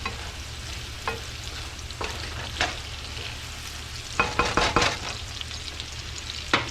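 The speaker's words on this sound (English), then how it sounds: "Now you want to cook your wild mushrooms completely thoroughly." Wild mushrooms fry in a pan with a continuous sizzle over a low hum. Occasional stirring scrapes cut in, clustering into a quick burst near the end, and no one speaks.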